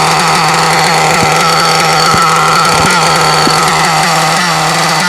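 A small two-stroke engine idles steadily at close range, a constant buzzing drone with a few faint clicks, no voices.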